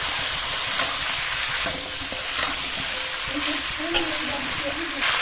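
Turmeric and homemade red chilli powder sizzle in hot oil in a pan for a village-style mutton curry, a steady frying hiss broken by occasional stirring scrapes, with a voice speaking softly over it.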